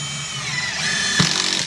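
A power drill with a purple GRK bit drives an AZEK screw, a steady whirring motor heard close up for under two seconds, with a brief sharper burst near the end as the screw seats.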